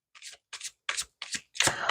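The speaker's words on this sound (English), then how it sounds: "I'm going to do some shuffling" Oracle cards are shuffled by hand in five quick separate bursts of riffling and sliding, close and crisp, with brief pauses between and no talking.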